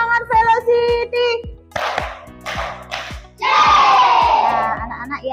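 A group of children in an Indonesian classroom chant and clap a rhythmic cheer, with sharp sharp claps punctuating shouted syllables, building to a loud sustained collective shout at the end.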